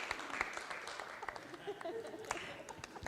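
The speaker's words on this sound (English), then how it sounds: "Feel free to applause for Lucas there." Scattered applause at a Fresno city council meeting, faint and thin clapping from a small audience in a large room, lasting a few seconds with a voice briefly audible.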